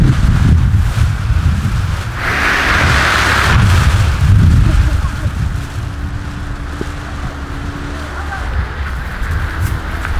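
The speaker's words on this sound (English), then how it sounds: "So there's a lot of wind over there" Gusty wind buffets the microphone on a remote tropical island airfield where a paramotor is flown, a rough rumbling roar that swells loud around the middle and eases off, with faint voices underneath.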